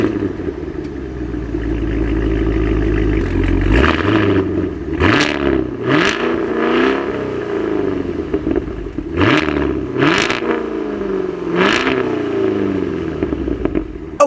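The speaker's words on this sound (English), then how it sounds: "let's take a listen to this amazing active performance exhaust" A Cadillac Escalade V ESV with an active performance exhaust idles with a deep burble, then revs hard in several loud, sharp blips that rise and fall, close to the tailpipes, with no talking.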